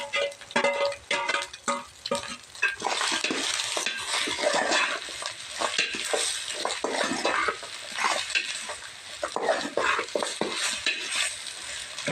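Chicken pieces sizzle in a pan with tomatoes, onions and green chillies for chicken fried rice, while a spoon stirs and scrapes against the metal in a steady, close, busy rhythm, with no talking.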